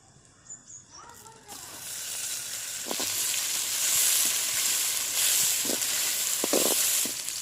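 Tomatoes tipped into onions frying in a village-style duck gravy pan set off a loud, steady broadband sizzle that swells and holds, with a few soft stirring knocks and a brief voice at the start.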